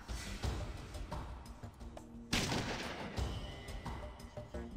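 Shotgun shots fired at a door in the video game Fallout 2, a series of loud, sharp blasts with ringing decay, one especially heavy blast midway, and no speech.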